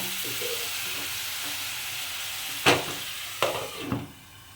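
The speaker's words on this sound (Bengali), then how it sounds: "মশলাটা ভালো করে ঢাকা দিয়ে কষে নেব" Masala paste with tomatoes fries in oil in a covered pan for prawns with kachur lati, a steady moderate sizzle broken near the end by a few sharp clanks and bursts of hissing.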